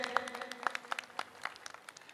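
Brief applause from an audience at a Jain Bhaktamar ritual ceremony in Haridwar, a thin scattering of faint hand claps with no voices over it.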